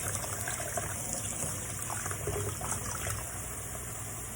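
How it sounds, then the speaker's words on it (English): Hot tap water runs steadily, gushing and splashing as a grooming implement is rinsed beneath the stream for disinfecting, close by with no talking. "We're rinsing this with hot water."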